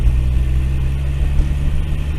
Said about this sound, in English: It's running a little bit weird. It's not really idling right